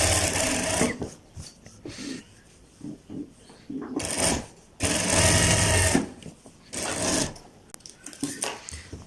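A sewing machine stitching a child's kurta runs in repeated bursts of fast, steady mechanical whirring, stopping and restarting several times between quieter pauses, close up with some faint handling noise.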